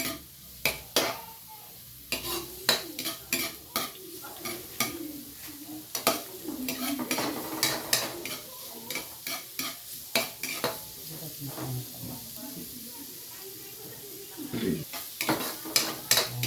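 Garlic and ginger sautéing in a pan, a steady sizzle under repeated clinking and scraping strokes of a utensil stirring against the metal, close by, with occasional faint voice.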